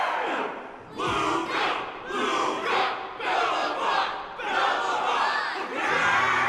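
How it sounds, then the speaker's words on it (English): A crowd at the Luminary Wardance arena in the video game Honkai: Star Rail cheers wildly, with loud, sustained roaring and battle cries that surge in repeated swells for several seconds, with no speech. "And the crowd goes wild."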